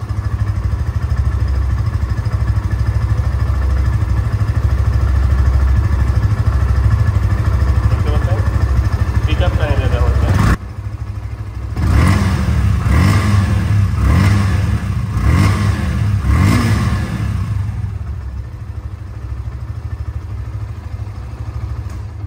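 A 2022 Yamaha FZ motorcycle in showroom condition idles with a steady low thrum, then a short pause leads into a series of about five quick throttle revs before it settles back to idle, with some talk nearby.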